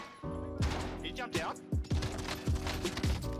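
Gunshots in the video game Warzone, a handful of sharp, punchy shots fired in irregular succession over a low game soundscape with faint background tones.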